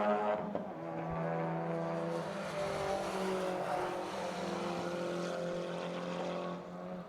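A white Toyota A90 race car running on track at Buttonwillow raceway, a steady loud engine drone with harmonic whine that holds and shifts slightly in pitch, passing near without talk.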